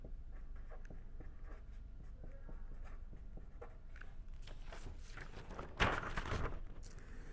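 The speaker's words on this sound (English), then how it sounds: "I am writing it here." Pen scratches across paper during a tutorial, with quick short strokes and taps in a continuous close-up stream and a louder scrape near the end, no voices.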